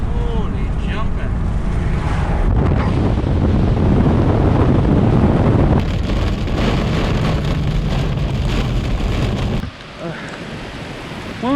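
Heavy rain pours and wind gusts outdoors on a trail near a stream, a dense, loud hiss with buffeting on the microphone that thins out briefly near the end, while someone speaks at times.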